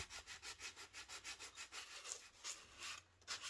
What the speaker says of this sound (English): So the next bit we've got to do is sand it off.